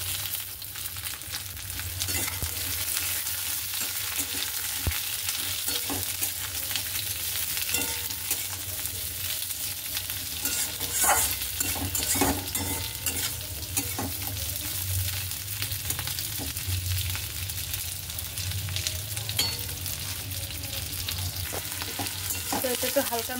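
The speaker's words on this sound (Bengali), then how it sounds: "তো এটা একটু হালকা নরম হয়ে গেছে পেঁয়াজ ভাজাটা।" Onions frying in a pan with chopped ginger, garlic and chilli, a moderate continuous sizzle with frequent spatula stirring and scraping over a long stretch, with no talk.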